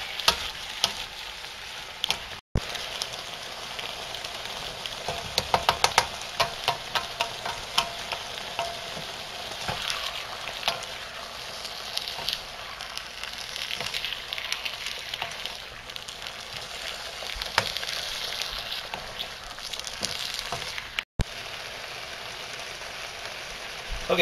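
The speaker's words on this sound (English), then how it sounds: "And then we're going to stir this up. Let it cook for a little bit." Vegetables frying in a pan for a Southwestern-style meal, a continuous crackling sizzle with intermittent scraping and clatter as they are stirred.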